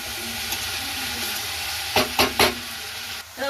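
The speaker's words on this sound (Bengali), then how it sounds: "ভালো করে নাড়াচাড়া করছি" Soaked flattened rice (chire) and vegetables are tossed in a hot pan over a soft steady sizzle, with three quick scraping stirs near the end and another starting just as it cuts off.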